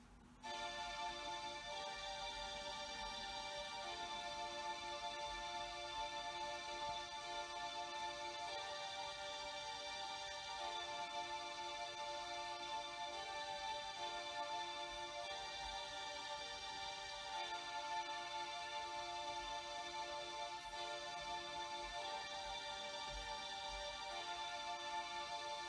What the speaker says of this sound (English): so that's the strings, which is from the NN19 digital sampler. These are orchestra strings